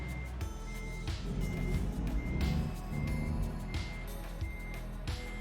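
A truck towing a trailer reverses in a truck driving game, set in Montana, its repeating backup beeps sounding over a steady engine drone with occasional hisses.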